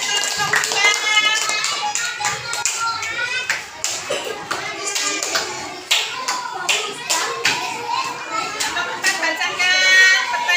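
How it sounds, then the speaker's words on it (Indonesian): Children in a classroom clap for a group that has just presented, a lively patter of many small hands that stays close and continuous, mixed with kids chattering and a teacher's voice. "tepuk tangan untuk kelompok 3"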